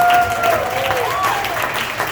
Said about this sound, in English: Have a nice round of applause for the band, ladies and gentlemen.